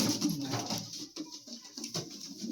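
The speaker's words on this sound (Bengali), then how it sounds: "খুব বড় লং সাইজের পায়রা আছে" A large long-bodied pigeon coos softly in a pigeon house, several low rolling coos close by, with no talk over them.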